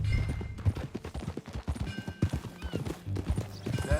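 Galloping horse hooves clip-clop rhythmically in Red Dead Redemption 2, with a horse whinnying and snorting amid game music and ambient sounds.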